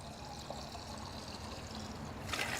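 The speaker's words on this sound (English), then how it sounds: "So far I've caught over 2 quarts of water." Water pouring and trickling steadily out of a vintage motorcycle into a catch container, a faint, continuous liquid stream close by with a brief louder splash at the end.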